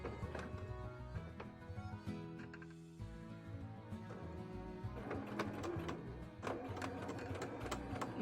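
A sewing machine stitches down the side of a bra wire casing on a cosplay bodice insert, running in steady mechanical bursts with a brief pause partway through, close and fairly loud with no talking.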